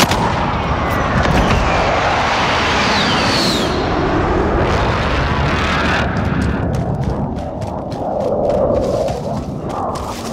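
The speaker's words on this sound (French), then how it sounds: "Attention, bombardement de précision en approche." A precision airstrike coming in during Call of Duty: Modern Warfare, a loud dense barrage of booming, artillery-like blasts and crackling fire that rolls on steadily, with sharper cracks toward the end and no talk.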